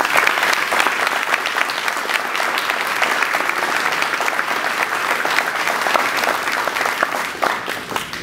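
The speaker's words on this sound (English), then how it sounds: "Let's give them all a round of applause." Sustained applause from a ceremony audience at the Northmont, Ohio 2012 valedictorian recognition event, dense and even clapping from a large crowd at full volume, tapering slightly at the very end.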